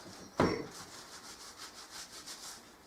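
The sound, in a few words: rubbing pork skin with vinegar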